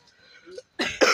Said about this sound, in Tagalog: Inuubo ako talaga malala.